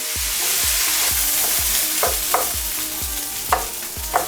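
Drained rice is sautéed in a pan with a steady sizzle, while a spatula stirs in a regular rhythm of soft scrapes and thumps and a few sharper clinks, close and continuous with no talking.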